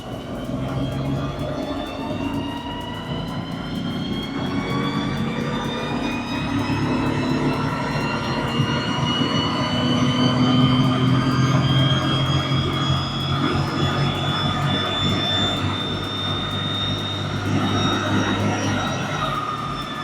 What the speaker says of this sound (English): Dyno run.